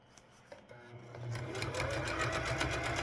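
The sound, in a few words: sewing machine sewing a hem around a corner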